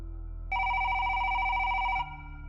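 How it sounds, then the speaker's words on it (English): A public telephone rings with one sustained electronic tone lasting about a second and a half over a low background hum. "when the public phone rang."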